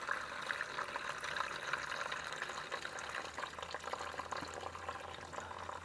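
Fluid drains from the engine of a Cub Cadet 524 snow blower into a drain pan as a steady, faint trickle and splash, continuous and unbroken.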